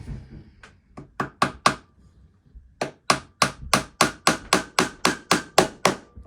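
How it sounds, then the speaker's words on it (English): Small peen hammer taps setting a pin in a handle: a few scattered hits, then about fifteen sharp, evenly spaced metallic knocks, close and crisp. "We'll take a small peen hammer."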